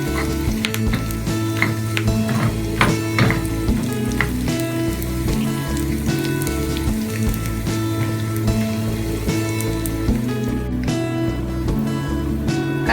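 Shallots, curry leaves and green chili frying in a mustard-seed tempering for a Kerala drumstick and dried prawn curry, a loud steady sizzle with scattered crackles and pops running the whole time, no talk.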